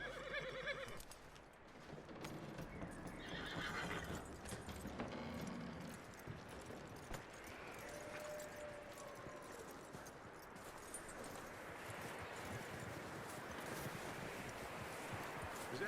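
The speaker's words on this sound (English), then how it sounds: "That looks like a decent horse." Horse hooves clip-clop in Red Dead Redemption 2, a steady outdoor patter under light wind and rustling, with a horse whinnying and someone speaking to calm it.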